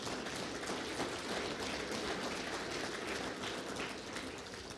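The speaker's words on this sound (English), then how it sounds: "Let's give them an applause." An audience at a hemp association gathering gives the board members a soft, continuous round of applause, a dense even patter of many hands heard from a distance without any speech over it.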